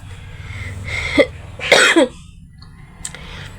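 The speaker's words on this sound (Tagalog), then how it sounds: "may ubo ako" A couple of nearby coughs and throat-clearing sounds, one sharper burst in the middle, against a quiet room background.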